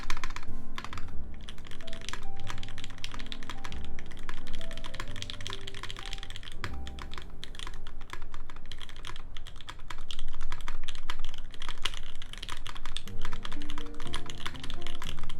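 Rapid, continuous clacking of a mechanical computer keyboard being typed on, dense irregular key strikes with occasional louder thocks, close and clear throughout.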